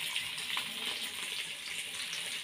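Water pours steadily into a pot of food to soak it, a soft, continuous splashing gush heard up close and fairly quiet, with no voices.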